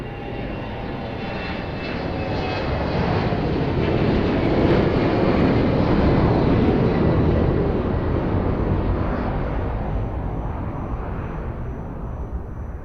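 An airliner takes off from runway 02 at Lisbon Airport with a sustained, loud jet engine roar that builds, peaks midway and then slowly fades as it moves away, with no voices.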